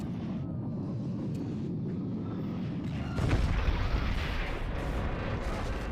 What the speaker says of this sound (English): Detonating on the inside and bringing everything into a free fall.